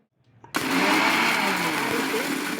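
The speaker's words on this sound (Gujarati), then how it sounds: "હવે એને આપણે મિક્સરમાં નાખી દઈશું." A kitchen mixer grinder grinds coriander, fennel and fenugreek seeds. It kicks in abruptly after a brief quiet moment with faint handling sounds, then whirs loudly and steadily, close up.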